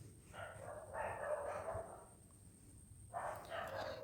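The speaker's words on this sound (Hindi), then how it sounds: "फिर भी कुत्ते यहाँ पर भौंक रहे हैं" Dogs bark outdoors late at night, a couple of muffled, distant bursts of barking separated by a quiet gap, heard faintly from indoors over a steady background hum.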